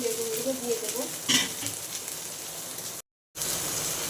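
Onion, green chili, chopped tomato and ginger-garlic paste fry in mustard oil with a steady close sizzle, a brief stirring clatter partway through and a short moment of dead silence near the end.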